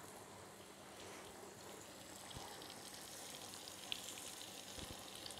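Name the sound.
chicken suprêmes frying in butter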